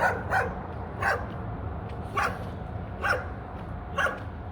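A dog barks in short repeated yaps, about six of them at a steady pace, moderately near during an outdoor walk with a low background rumble.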